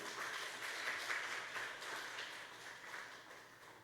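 A church congregation applauds a speaker coming forward at a worship service. The clapping is soft and distant, a steady dense patter throughout with no voices over it.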